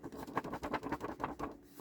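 Soft, crinkly rustling of thick, good-quality junk mail paper in quick repeated bursts, close by and fairly quiet, with no talking.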